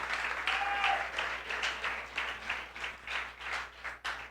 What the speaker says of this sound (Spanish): Vamos a darle un aplauso de bienvenida a mi lady